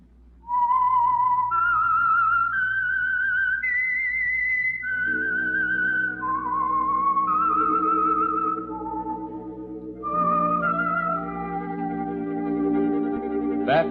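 A solo whistler carries a slow, wavering melody of held notes with vibrato, the theme of the old radio mystery program The Whistler, joined partway by soft orchestral accompaniment underneath.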